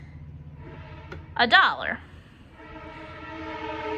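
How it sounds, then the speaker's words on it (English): A train passes at a distance, its horn sounding as a steady, layered tone that swells in the background while a person speaks over it. "excuse the train in the background"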